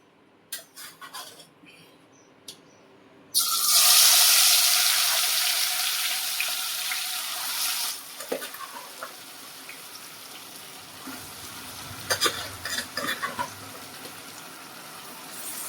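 Marinated paneer and vegetables for paneer biryani hit hot oil with a sudden loud sizzle after some clinking, then the frying fades and softens while utensils clatter and scrape.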